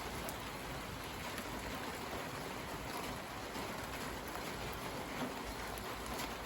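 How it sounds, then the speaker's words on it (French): Heavy rain during a stormy, windy late-February spell, pouring down as a dense, continuous hiss of drops drumming on surfaces, steady and close throughout, with no voices. "Et là ça pleut bien."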